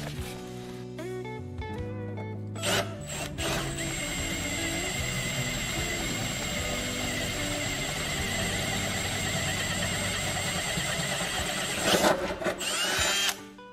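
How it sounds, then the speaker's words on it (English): A power drill whirs steadily at a constant pitch for several seconds, with a few louder bursts as it bites in, close and alone. "Okay, I've got a drill."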